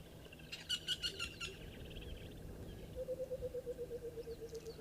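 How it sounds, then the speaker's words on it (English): Outdoor birds calling: a rapid burst of high chirps, then a steady series of repeated mid-pitched hoots, moderately close over faint background noise. "Some different birds as well."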